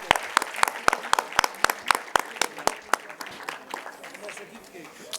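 Applause at a live ICT summit awards ceremony, with sharp, fairly sparse claps ringing out steadily for several seconds before thinning toward the end, some murmuring underneath.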